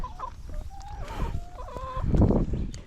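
Chickens kept behind a pasture fence, several birds clucking and murmuring close by in short, irregular calls over a low outdoor rumble, with no one talking.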